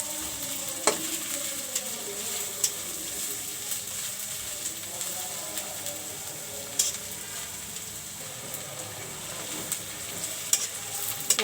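Chopped onions frying in a pan for a dried fish curry, a steady sizzle with occasional stirring scrapes and clicks, close and continuous, no voices.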